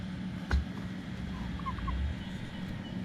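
Pet turkeys gobbling outdoors, a couple of short faint gobbles and a brief bump against a steady low background rumble, no speech.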